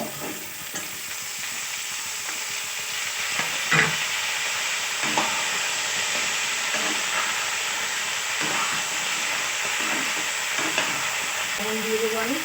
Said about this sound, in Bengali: সামান্য একটু লবণ দিয়ে দিলাম সবজিগুলো ভাজার জন্য।